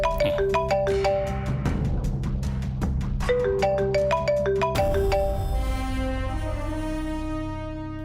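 A phone ringtone plays a loud melodic electronic tune of repeated bright notes. It runs for several seconds and fades slightly at the end, with no voices.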